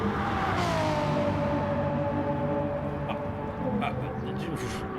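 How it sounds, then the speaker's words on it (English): A Renault GT3 race car runs on track during a heat event, its engine a steady loud drone with a pitch that sweeps down, a continuous near roar under commentary. "There's a Renault out on track"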